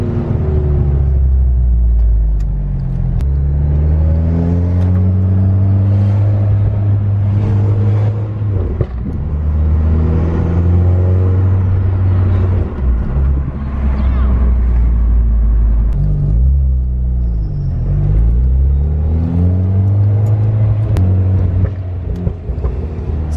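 An MK6 R car burning oil on a test drive accelerates and revs, its engine note climbing and dropping through repeated gear pulls, loud and close from inside the cabin with wind noise throughout.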